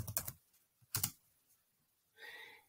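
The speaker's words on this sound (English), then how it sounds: "And I just typed in grid" A computer keyboard is typed on in a few short, close bursts of key clatter separated by quiet gaps, with a faint brief hiss near the end.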